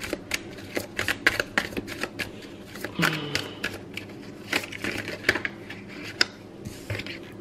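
Oracle cards being shuffled by hand, a rapid run of crisp riffling clicks and flutters close up, with brief pauses between bursts and no talking.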